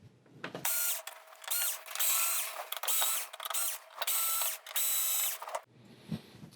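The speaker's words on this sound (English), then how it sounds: "Now we just got to get these screws out and this should come away from the chassis." Electric screwdriver or drill whirring in repeated bursts as screws are backed out of the main board chassis of an LG 42LE5400 TV, several close, loud runs with short pauses, ending in quiet handling.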